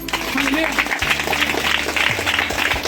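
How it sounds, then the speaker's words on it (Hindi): Congregation at a healing prayer meeting at Tuna Pahad claps loudly as a group, a brief burst of crowd clapping mixed with a voice speaking over it. "जोर से ताली बजाओ।"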